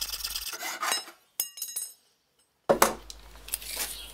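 Hacksaw cutting through a threaded metal rod held for a woodworking clamp, rasping strokes in short bursts separated by a silent gap, close and fairly loud.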